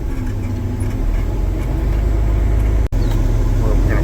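A large loader's diesel engine idles steadily in sub-zero cold while warming up, a loud, constant low rumble that holds throughout with one brief dropout near the end.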